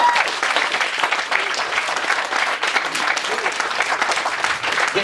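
Audience at a hypnotist stage show giving a big round of applause, loud continuous clapping from a packed room lasting the whole moment, with some voices in the crowd.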